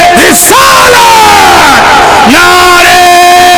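A large crowd at a religious gathering roars a slogan in unison after the preacher's call, a loud massed shout of drawn-out voices that rises, holds and falls in waves filling the whole clip.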